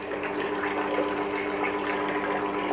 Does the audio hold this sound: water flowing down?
yes